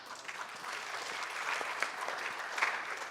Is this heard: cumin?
no